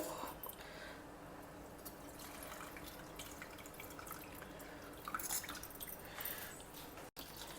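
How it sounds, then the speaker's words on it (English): Water splashing and dripping with soft squishing as rice is swirled by hand in a bowl of water, steady throughout with a few louder sloshes. "So I will just wash it and bring it back. Wash it very well 2 or 3 times"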